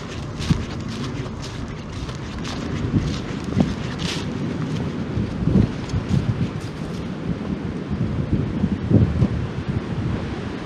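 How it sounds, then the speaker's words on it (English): Strong wind roars steadily across the microphone along a hiking trail, a constant loud rush with gusting swells and buffeting thumps. "Wind is ripping through here."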